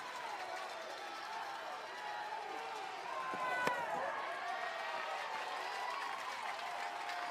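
Large stadium crowd at a college softball match between Texas A&M and Texas in Austin, a steady wash of applause and cheering at a constant, fairly loud level, with a brief louder swell midway and voices mixed into the noise.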